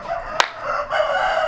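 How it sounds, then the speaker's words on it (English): A rooster crows in a fishing village near Lima, Peru, where fighting roosters are raised; a single sharp call cuts in briefly over a steady, busy outdoor background, followed by continuing ambient noise. "look at the rooster."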